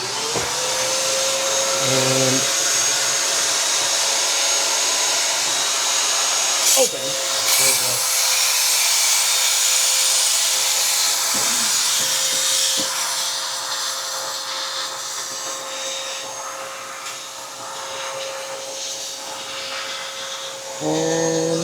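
A shop vacuum runs steadily and loudly throughout during walnut blasting of an N54 engine in an E60, its whine holding constant with brief bursts of air and clunks, while people talk over it.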